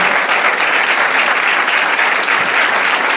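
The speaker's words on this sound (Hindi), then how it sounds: "ब्रदर जोसेफ के लिए जोरदार तालियां बजाएं" Loud, dense applause from a church congregation for Brother Joseph, a steady wash of clapping that holds at full strength from start to finish with no voices over it.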